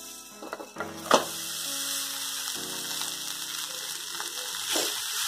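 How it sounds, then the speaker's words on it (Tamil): A pan of rice with salt and curry leaf powder is stirred, giving scraping clinks and a steady low sizzle, with a couple of sharp knocks of the spoon early on. "ஃபைனலாக தேவையான அளவு உப்பு, சாதத்தை கொட்டி கிளறிடலாம்."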